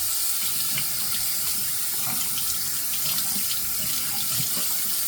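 Bathroom tap running steadily into a sink for a rinse after a shave, a constant close splashing rush of water with no voices.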